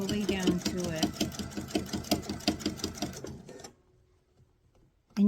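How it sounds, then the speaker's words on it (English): A sewing machine stitches a travel pouch in a fast, rhythmic clatter, close and fairly loud, for about three and a half seconds before stopping, leaving near silence. "I'm going to sew all the way down to it."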